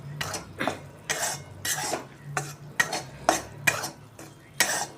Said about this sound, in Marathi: म्हणून पीठ छान भाजून घ्यायचं.